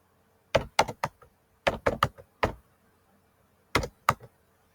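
Sharp clustered taps come in three quick groups with pauses between, like keys being struck on a keyboard, close and otherwise quiet.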